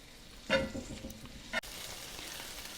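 Vegetables and bread cook gently on low heat in a pan, giving a soft, faint sizzle with two brief louder clatters of stirring or handling partway through.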